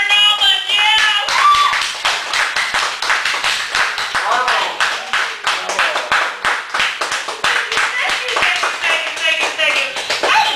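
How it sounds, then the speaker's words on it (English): Audience applause for a poet at a cafe poetry feature in Chicago, steady dense clapping from a nearby crowd lasting throughout, with a few cheers and voices mixed in. "give it a proper, good applause for Martin Altman."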